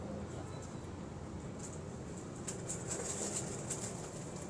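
Pigeons at a pigeon keeper's loft, soft cooing and faint rustling against a steady background hum, with no voices.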